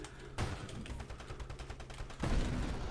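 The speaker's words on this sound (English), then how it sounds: "you can see the mines going off, and then railguns going" Mines going off and railguns firing in the space shooter Nova Drift, with a dense run of rapid blasts and two heavier booms near the start and end, loud and continuous.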